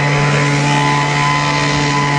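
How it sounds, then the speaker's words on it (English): Track-cleaning vehicles at an AMRCA race in Anderson, Indiana, a loud steady engine drone with a constant hum, continuous throughout with no break. "The sound you hear in the background, they're cleaning the track"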